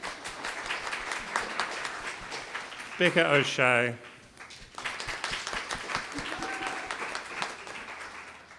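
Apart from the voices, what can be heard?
audience applause for panel speakers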